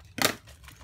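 Scissors make a single quick crisp snip through silicone tape, cutting out a small square, close by and otherwise quiet.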